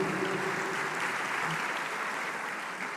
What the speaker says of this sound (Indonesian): Tepuk tangan untuk Ibu Ripka Haluk.